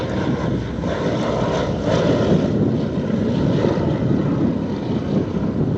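P-51 Mustang propeller fighters fly over an airshow at Thunder Over Michigan, their piston engines giving a loud, sustained throaty drone that stays strong and even throughout.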